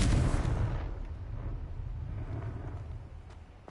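In Hogwarts Legacy, a Confringo blasting spell bursts with a loud, booming explosion. A heavy rumble then rolls away and fades steadily over a few seconds, with no voices.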